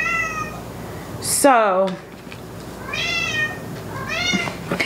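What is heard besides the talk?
cat meowing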